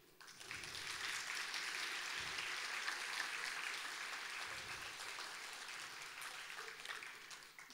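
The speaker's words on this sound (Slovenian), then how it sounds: "Prosila bi, da si najprej naklonite en velik aplavz za to, da ste tukaj" A concert audience at a charity event for abandoned animals in Koroška claps steadily for several seconds, a broad, dense wash of applause that stays even throughout with no voices over it.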